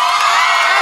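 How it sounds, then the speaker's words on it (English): A roaring crowd cheering at a televised dance competition performance, loud and sustained with a bright, dense wash of voices and no break across the short burst. "heard a roar from a crowd like this ever."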